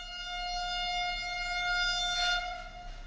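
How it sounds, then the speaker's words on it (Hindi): A train sounds a long, steady, horn-like tone at moderate distance. It holds evenly, then swells briefly near the end before easing off. "ट्रेन आ रही है"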